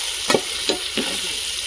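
Tomatoes stirred and fried in a pan, with a continuous close sizzle broken by three quick scraping stirs of a spoon, and no voices.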